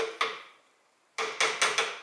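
Careful hammer blows on a Ford front axle driveshaft during disassembly: one sharp metallic strike, a pause, then a quick run of four ringing hits, close and loud.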